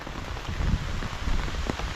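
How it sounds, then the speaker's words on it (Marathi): Steady rain patters down close by on the Konkan seashore, a dense even hiss of drops hitting surfaces with no voices. "हे बघा काय ऊन ऊन म्हणताना पाऊस आला"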